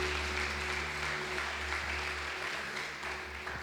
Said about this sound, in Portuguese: Aplaude ao Senhor se é para Deus.